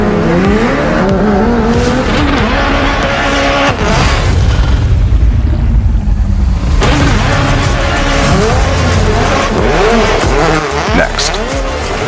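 Hyundai RN24 high-performance electric car drifting rally-style, with loud sustained tire squeal and skidding, swelling engine-like whine and booming thumps, close and continuous throughout.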